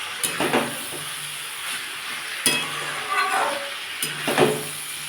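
Beetroot, carrot and peas cooking down with turmeric in a pan give a steady sizzle, with several scraping stirs of the spoon against the metal. The clip stays close and moderately loud and has no speech.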